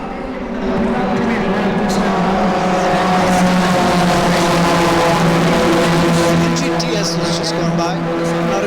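Race cars on a racing track during a JK Tyre race, a loud sustained engine roar as cars pass close by, with commentary talking over it.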